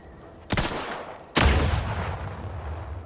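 Two heavy explosions from mines in The Outer Worlds 2, the first sharp and the second louder and longer, each with a rumbling tail that fades over a low background hum.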